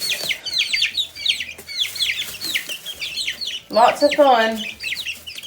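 Hens in a backyard coop cluck and chirp steadily at close range, with one louder squawking call midway, while a person speaks briefly over the flock.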